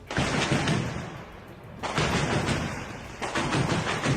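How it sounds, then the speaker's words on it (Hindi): Bursts of rapid automatic machine-gun fire in the Russia-Ukraine war crackle in long sustained volleys, with a short lull between them, loud and dense with no voices. "एक जगह तो मशीन गन से इस तरह गोलियां चलती दिखाई दी"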